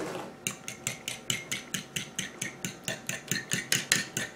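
A fork beating egg mixture in a bowl, rapid rhythmic clicking strokes at a steady even pace, close and fairly loud, with no talking.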